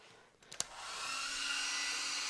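Hair dryer blowing in a hairdresser scene, starting with a few short clicks and then rising into a steady, loud whoosh that holds without talk.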